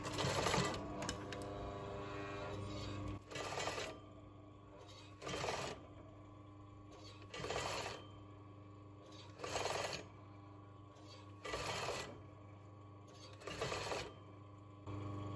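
A sewing machine stitches bias binding onto the edge of fur for a reconstructed 16th-century man's gown, running in short regular bursts of rapid whirring separated by pauses, close by with a low hum between runs.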